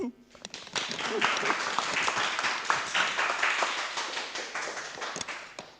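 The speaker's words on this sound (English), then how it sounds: "Give applause probably for them." A modest conference audience at ICONIC 2024 gives a brief round of applause, scattered claps building quickly and then thinning out toward the end.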